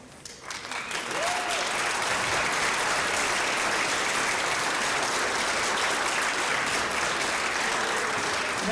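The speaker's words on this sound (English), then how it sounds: "let us give you a round of applause" Auditorium applause for school administrators at an honor orchestra concert, rising over the first second into dense, steady clapping from a large audience that carries on to the end.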